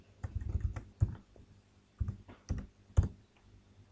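Keys clacking on a computer keyboard while typing a table into an Excel spreadsheet, irregular clusters of close, crisp keystrokes with short pauses between them.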